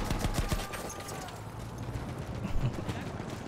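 Gunfire from the World War I shooter Battlefield 1 in a trench fight, a dense run of sharp shots and rattling bursts through the first second, then scattered distant shots under a steady battlefield rumble.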